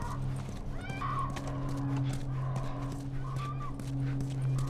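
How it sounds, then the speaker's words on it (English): Horse in the video game The Last of Us, giving several whinnies and snorts over steady hoof clip-clops and a low ambient hum, close and moderately loud with no talk. "Stay with the horse."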